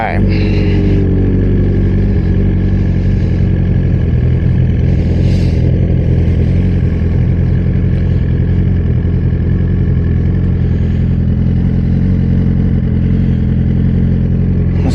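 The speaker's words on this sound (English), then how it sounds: "First pass with our new exhaust." A Suzuki GSX-R 1000 motorcycle with a new aftermarket exhaust runs with a loud, steady engine drone that stays constant throughout, mixed with other engine noise and heard alongside talking.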